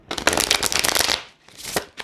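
Slippery tarot cards riffle and shuffle quickly by hand, a dense crisp flutter close up, then a pause and a shorter second shuffle with a soft slap.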